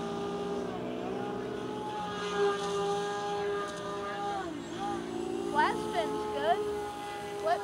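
FT Edge 540 RC model airplane in a flat spin, its small electric motor whining steadily with the pitch sliding and wavering as it rotates, fairly close, with a person talking over it.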